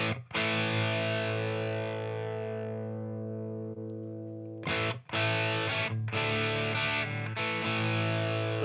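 Electric guitar runs through a Headrush amp simulator using a virtual 121 ribbon mic placed off axis, with a distorted chord sustaining and slowly decaying before several sharper strummed hits follow, loud and close.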